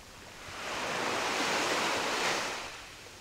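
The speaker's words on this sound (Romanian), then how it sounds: "În dimineața asta apa e mult mai liniștită." Gentle calm sea water washes in a soft, broad hiss that swells and fades once, steady and calm with no voices, in Ang Thong National Park.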